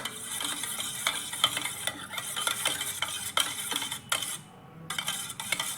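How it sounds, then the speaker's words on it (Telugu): Cake batter for an eggless vanilla cake being stirred right after vanilla essence goes in, a steady close scraping and swishing with small clinks of the spoon against the bowl, no talking. "వెనిలా ఎసెన్స్ కూడా ఒకసారి మిక్స్ చేసుకోండి"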